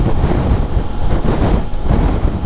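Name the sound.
wind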